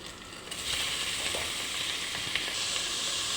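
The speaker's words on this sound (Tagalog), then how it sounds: "Pa-brownin lang natin bago natin ilagay ang ating mushroom." Mushrooms fry in a hot pan for a creamy white-sauce pasta, giving a steady, even sizzle that grows a little louder after the first moment and continues without talk.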